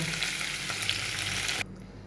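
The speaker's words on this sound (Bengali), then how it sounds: "এইভাবে আমি সব পনিরগুলোকে ভেজে নেব" Paneer cubes frying in oil in a pan, a dense close sizzle that holds steady and then cuts off abruptly, leaving quiet room tone.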